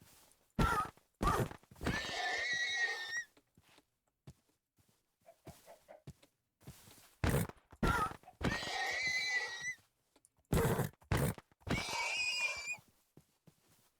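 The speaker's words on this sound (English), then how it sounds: "Sorry, horses, I need leather." Horses in the Minecraft Cobblemon game whinny in three loud, close bursts, each opening with sharp hit-like thuds and sliding into a drawn-out neigh, separated by quiet gaps with faint clip-clop.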